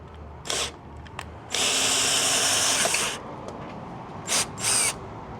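Power drill boring through wood in a garage: two short bursts, then a long sustained high whine of about a second and a half, followed by two more brief bursts, close and loud.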